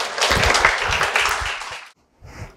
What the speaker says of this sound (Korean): 박수 한 번만 더 치세요.